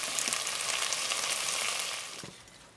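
Meatballs of ground beef browning in a frying pan, a steady close sizzle and crackle of hot fat that fades slightly toward the end, with no voices.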